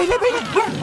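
Bailey the dog lets out a short burst of close, yappy barks and whimpering yips, rising and falling over just under a second with no talk.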